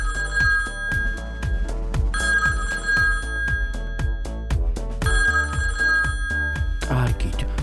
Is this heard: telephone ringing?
yes